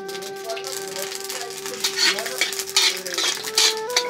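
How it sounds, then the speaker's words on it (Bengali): Nigella seeds fry in a pan with dried chillies and bay leaves, with a metal spoon clinking and scraping as it stirs, under a faint steady hum and soft sizzle. "দিয়ে দেবো কালো জিরে"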